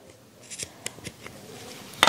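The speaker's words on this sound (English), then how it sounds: "I take scissors and I'm going to snip that apart" Scissors snip apart a loop of string, a few soft close cuts scattered over two seconds and ending in a sharper, brighter snip.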